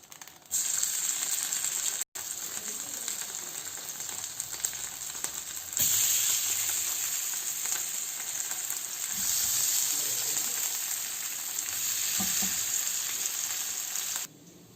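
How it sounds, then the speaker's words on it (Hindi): Masala fish fries in oil for grilled masala fry fish, giving a steady, close hiss and crackle that swells and settles, with a few sharp clicks of utensils; no talking. "अब मैं फिर से थोड़ा सा ऑयल डाल रही हूँ इसके ऊपर, और बाकी की फिश को हम फ्राई कर लेते हैं।"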